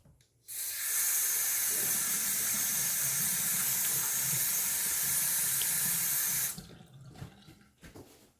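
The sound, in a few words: splashing cold water on face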